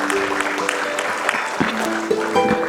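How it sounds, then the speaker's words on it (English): At a women entrepreneurs' awards ceremony, a hall audience claps in a moderate, uneven patter with distinct individual hand slaps, while steady tones and faint voices murmur underneath. "Let's give it a huge round of applause."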